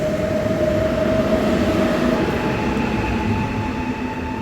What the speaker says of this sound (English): This intercity is moving onwards to Wrocław.